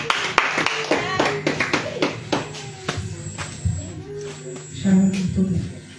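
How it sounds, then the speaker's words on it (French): A congregation at a large prayer vigil clapping and applauding in bursts, with sharp close claps and a crowd mixing in, while people speak and call out over it. "Acclame le Seigneur Jésus pour son amour"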